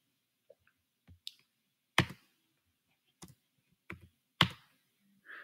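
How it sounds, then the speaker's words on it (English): A computer keyboard tapped in a quiet room, ending with the Enter key: several sharp, isolated clicks spaced about a second apart, with a few fainter taps between them. "So we have this typed in, hit enter."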